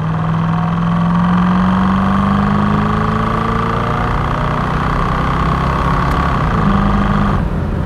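A Chevrolet Corvette C3 with an L-48 V8 and an automatic gearbox drones loud and steady after a downshift, its engine note held at a sustained pitch that slowly rises while the car pulls.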